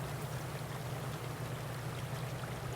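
River water in the video game Armored Battle Crew rushes and gurgles steadily as a vehicle crosses, a constant wash of flowing noise with a low hum beneath.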